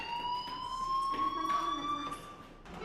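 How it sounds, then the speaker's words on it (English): A fire alarm in the video game Life is Strange sounds with a steady high-pitched electronic tone, moderately loud amid faint background activity, without speech. "do you hear that fire alarm?"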